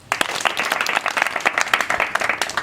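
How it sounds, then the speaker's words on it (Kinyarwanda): An audience bursts into applause, with dense, close, continuous clapping from many hands throughout. "Munkomera amashyi."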